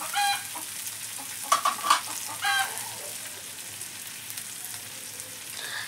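Shrimp and a few green chilies being stirred in a frying pan, a soft steady sizzle with brief scraping bursts of the spatula near the start, close by and fairly quiet, no voices.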